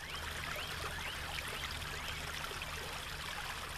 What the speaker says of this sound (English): that water there is running out of it